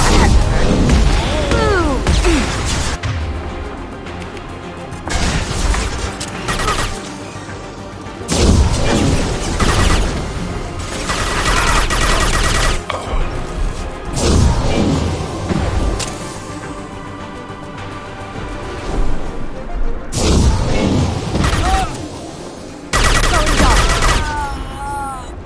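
Gunfire in the video game Mass Effect 2 comes as loud, repeated bursts of rapid shots and booming impacts across a combat scene, broken by short pauses and mixed with game voices speaking.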